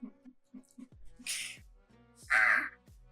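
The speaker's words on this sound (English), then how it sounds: "The crow screeches." A crow gives several harsh, loud caws, the last one the longest and strongest, with quieter clicks and short sounds before them.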